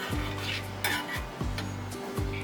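Spices being stirred into water in a pan, with a spoon sweeping round in a steady rhythm, soft scraping strokes and light clinks against the pan, close and fairly quiet, no voices.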